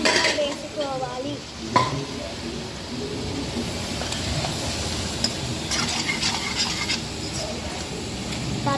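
Boti curry is stirred in a cooking pan with a utensil scraping and clinking at close range while the pan sizzles steadily, the strokes continuing throughout with occasional sharper taps.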